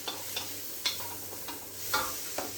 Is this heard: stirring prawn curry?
yes